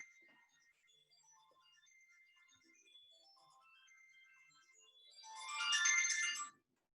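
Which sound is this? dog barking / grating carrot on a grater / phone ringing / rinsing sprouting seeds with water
phone ringing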